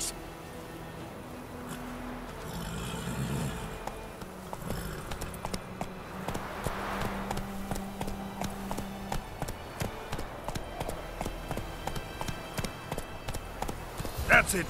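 Horse hooves clip-clop steadily in the video game The Witcher 3, a regular rhythmic patter at moderate level beneath game ambience and a man's brief speech.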